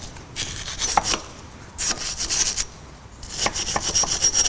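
Rust is scrubbed off the wheel studs of a Toyota Camry during a brake pad job, giving loud rasping scrubbing strokes in three bursts separated by short pauses.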